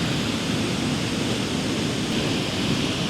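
A waterfall throws spray in the rain, making a constant, dense rushing hiss of water and wind with no breaks.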